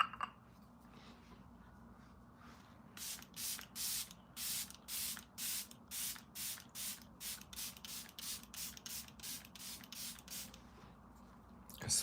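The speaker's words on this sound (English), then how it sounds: "Spray on it and the hairspray." Hairspray is sprayed onto styled hair for a gothic glam look in a run of about twenty short, rhythmic hissing bursts, close and clear, with no talk.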